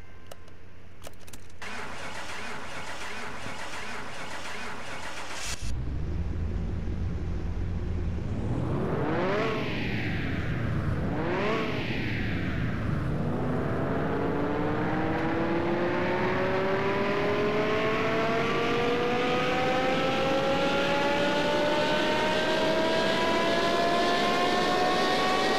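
A Porsche Carrera GT engine fires up and revs on a dyno in Car Mechanic Simulator 2021, starting with a whirring crank, then two rising and falling revs before climbing into a long, steadily rising wail that stays loud and continuous.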